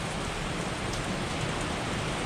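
Heavy hurricane rain pours down over a screened lanai, a dense, unbroken roar of water close by with no voices.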